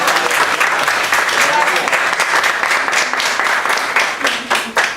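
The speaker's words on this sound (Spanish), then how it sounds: "aplauso." An audience claps after an academic session, dense applause holding steadily and then thinning into a few scattered claps at the end.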